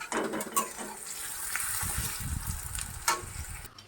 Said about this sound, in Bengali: এই যে পেঁয়াজ ভাজছি